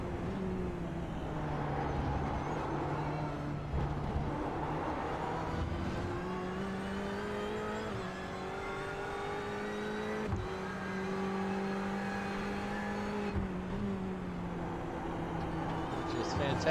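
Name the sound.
Ferrari race car engine revving on track, iRacing video game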